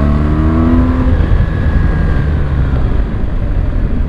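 A 2017 BMW R1200GS motorcycle rides past loudly up close, engine pitch rising and then gliding down as it accelerates and shifts, with a steady roar through to the end.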